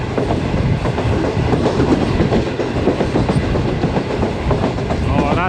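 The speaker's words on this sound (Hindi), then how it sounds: "और आहिस्ता आहिस्ता ट्रेन हमारी हसन अब्दाल शहर में भी दाखिल हो रही है।" Awam Express passenger train running on the tracks while entering Hasan Abdal, a steady loud rumble with clickety-clack wheel rhythm throughout, heard close from on board.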